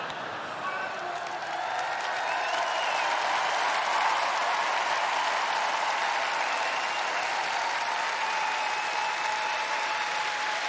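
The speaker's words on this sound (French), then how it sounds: "Un applaudissement." Sustained audience applause fills a large arena during a comedy show at Forest National, steady and dense for the whole stretch with no voices standing out.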